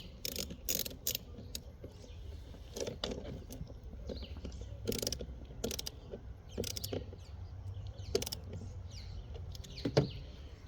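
Ratchet tightening the negative battery terminal on a Ford Mustang GT, a series of quick sharp clicking bursts at irregular intervals over a low background hum, close and moderately quiet with no voices.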